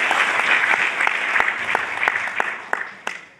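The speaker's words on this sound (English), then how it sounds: "I request you to join me in applauding the entire organizing committee." Guests at a Tanzanian USIU-A alumni dinner applaud the organizing committee: a full round of clapping with crisp individual claps standing out, tapering off toward the end.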